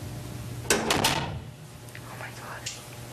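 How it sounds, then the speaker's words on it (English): A door closes with a sharp thump and a short rattle in a quiet room during a paranormal investigation, followed by faint whispery sounds. "Oh, the door just closed."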